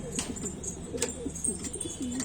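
Kept pigeons in Pitampura, Delhi, cooing in soft, repeated low calls, close by, with a few faint higher chirps above them and no talking.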